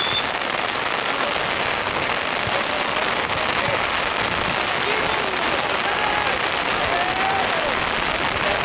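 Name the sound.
rain starting during a school football match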